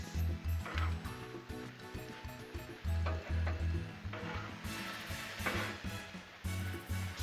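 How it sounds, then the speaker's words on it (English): Steak, chorizo, peppers and onions on a Blackstone griddle, stirred with a spatula, giving repeated rhythmic metal scraping and clacking over a faint sizzle, close and fairly loud. "keep that steak stirred up, that chorizo and the peppers and onions stirred up till it's all done"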